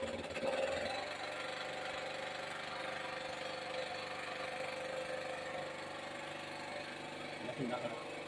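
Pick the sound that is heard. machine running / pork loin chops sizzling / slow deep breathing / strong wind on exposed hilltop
machine running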